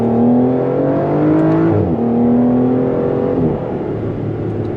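A Porsche 911 engine, loud from inside the car, drops in pitch as revs fall, then blips sharply on a downshift and settles into a lower steady drone before easing again.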